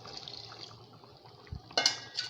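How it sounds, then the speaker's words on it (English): Water splashes and rinses inside a mortar after pounding, with faint trickling, a soft thud and a short burst of pouring near the end, fairly quiet and with no talk. "Whenever they are done with pounding something in the mortar, they put water and rinse it off."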